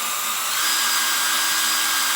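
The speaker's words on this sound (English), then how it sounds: "Just let the drill cut its own way." A high-pitched electric drill whirs continuously at close range, boring into the wood of a Gibson J-200 acoustic guitar, a steady bright whine with no talking.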